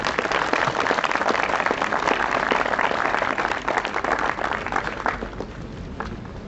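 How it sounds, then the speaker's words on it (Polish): Audience applause at the results ceremony of a medical rescue championship, a sustained, dense clapping from many hands in a large room, steady and then easing slightly toward the end. "Gratulacje, serdeczne gratulacje i brawa,"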